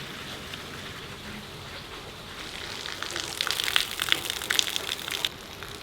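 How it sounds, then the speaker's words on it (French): Heavy rain pours down in Oklahoma during a storm-chasing trip, starting as a dull steady patter and swelling into a loud, dense splattering downpour before easing slightly at the end. "Le déluge dans l'Oklahoma."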